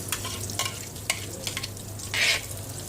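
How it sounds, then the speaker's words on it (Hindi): Potato omelette frying in oil in a pan, a steady close sizzle with light scraping and stirring touches and a brief louder hiss near the end. "थोड़ा सा तेल और डाल लें और उसी में फिर ये आमलेट फ्राई कर लेते हैं।"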